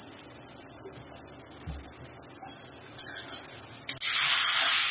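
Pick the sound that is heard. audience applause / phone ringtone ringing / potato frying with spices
potato frying with spices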